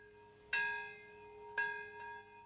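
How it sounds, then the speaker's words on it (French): Two resonant bells of the Nagasaki memorial strike about a second apart, each humming and fading slowly, with a faint third tone trailing after. "les cloches du mémorial de Nagasaki ont sonné"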